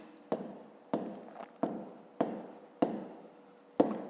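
A pen writing out a maths answer by hand on paper: six distinct scratchy strokes, close and clear, each starting sharply and fading, with quiet between and no voices.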